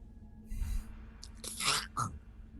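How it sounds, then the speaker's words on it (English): Stone cracks and crunches in a few short, close bursts as a skeletal beak breaks out of a gravestone bust in a cave. "a skeletal beak crunches out of the stone."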